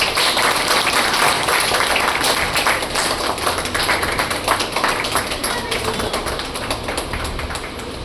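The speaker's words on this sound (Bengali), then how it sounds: "জোরে হাততালি হোক।" An audience at an Independence Day function of a women's welfare society claps in a dense, sustained burst of rapid applause that tapers slightly, with people talking over it.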